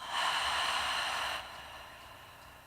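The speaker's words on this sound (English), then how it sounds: "Take another deep breath in. And a big exhale." A deep, breathy exhale during a yoga breathing exercise, a steady airy rush of breath that holds strongly for over a second, then fades into a softer trailing breath, close and alone.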